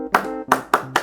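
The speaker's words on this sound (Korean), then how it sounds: "예배 잘 드린 친구에게 칭찬 박수" Children at a church service clap in praise, four sharp, close hand claps in a quick, slightly uneven rhythm, loud and dry with short gaps between, and no talk.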